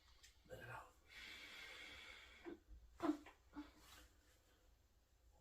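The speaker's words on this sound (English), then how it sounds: "Take a deep breath in. Let it out." A person breathes in deeply and slowly exhales during a back pain relief session, the soft, close airflow rising and falling amid faint rustling and a few small snort-like sounds.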